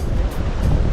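Sea waves surge and wash continuously where a river flows into the sea, a close, full rush of surf with a windy roar and no voices.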